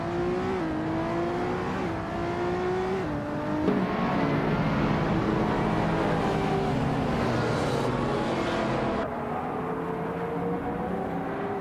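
A 2015 McLaren 570S engine in a racing video game, revving steadily near and loud as it climbs through the gears with clear pitch drops at each shift, alone with no talk.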